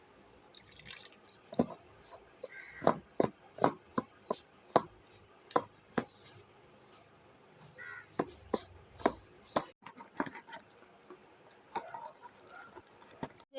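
Gram flour batter with a little salt and chilli powder for fritters is mixed in a bowl, giving a series of soft wet taps and slaps in an uneven rhythm, close and fairly quiet with no talk.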